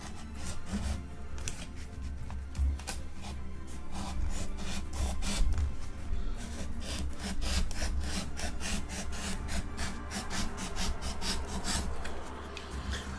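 Steady hand beveling of a terrain piece for a tabletop wargame board, a continuous scraping, rasping rub that runs unbroken and fairly close for the whole stretch, with no talking over it.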